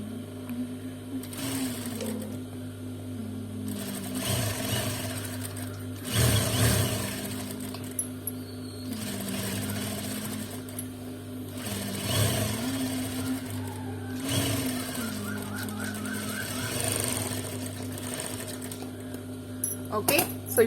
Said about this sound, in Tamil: ஸோ இதே மாதிரி இந்த சைட் கர்வும் நம்ம ஸ்டிச் பண்ணி எடுக்கணும்.